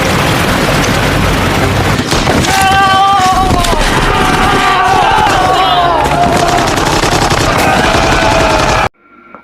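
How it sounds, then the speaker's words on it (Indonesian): Dense, loud bursts of machine-gun fire from militia shooting villagers in a film scene, rapid continuous rattling mixed with shouting and crowd commotion, ending abruptly. "Justin kemudian berlari dan menemukan milisi menembaki dan membunuh penduduk desa."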